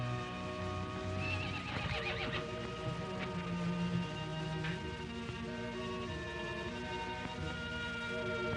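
A horse neighs loudly in a drawn-out whinny, with hoof clip-clops and a faint steady background hum.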